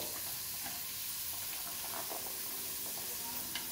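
Onions and small-cut vegetables sautéing in hot oil for egg noodles, a soft continuous sizzle and hiss with occasional light stirring clicks.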